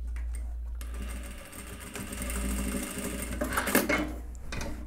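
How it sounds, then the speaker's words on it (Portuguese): Sewing machine running a back-and-forth stitch down the middle of a waistband strip on a pantacourt trouser front, a steady close mechanical whir with rhythmic ticking of the needle, running alone and loud throughout. "Vou costurar bem aqui no meio da tira, centro do cós."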